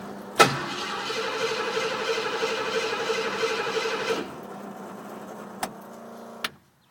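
A Ford Ranger pickup truck engine cranks with a sharp click, then turns over in a steady whirring drone for about four seconds before cutting out, followed by two quick clicks.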